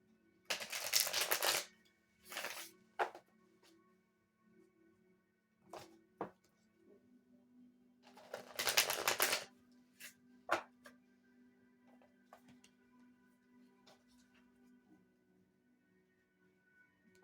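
Tarot cards being shuffled by hand in several short, crisp riffling bursts separated by quiet pauses, close and fairly soft.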